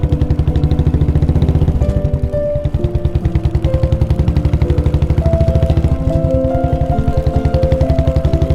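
A motorcycle engine thumps loud and steady with a fast, even firing pulse while riding through Spiti Valley, holding a constant note with slight shifts in pitch and no talk over it.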